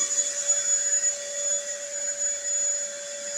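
A 10 amp vacuum cleaner running on a 3200 watt pure sine inverter, a steady high-pitched motor whine with a clear tonal hum, continuous and close for several seconds without talk.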